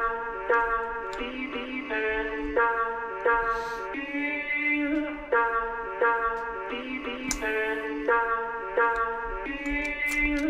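A chopped-up sung vocal sample from an FL Studio drum and bass track repeats in short, choppy pitched bursts with abrupt cuts, moderately quiet and without percussion.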